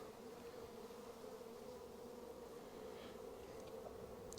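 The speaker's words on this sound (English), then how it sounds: "So there's bees flying away" Honeybees buzz in a steady, dense drone around an orchard apiary hive, a continuous hum of many wings flying close by with no talking.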